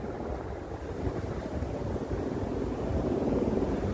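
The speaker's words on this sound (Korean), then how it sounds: "오늘 헬리콥터가 왜 이렇게 계속 지나가지?" A helicopter passing overhead beside the Han River, heard as a steady, distant low rumble that swells slightly toward the end, with no talking.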